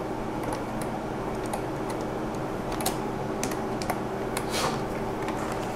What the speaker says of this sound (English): I'm going to just bring the keyboard over here and type in a name for my session that I want here.